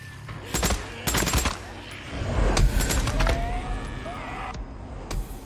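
Gunfire from the video game Days Gone, a few sharp bursts of shots spread over several seconds, fairly close and loud, with some rattling in between and no voices.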